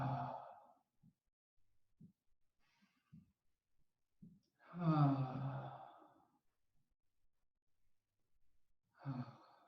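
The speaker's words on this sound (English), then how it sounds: "Let's take a few of our self-soothing breaths to put us back down where we want to be." Slow, soft self-soothing breaths during a guided relaxation exercise: a gentle exhale at the start, a long audible sighing breath in the middle and another at the end, with quiet pauses and small clicks between.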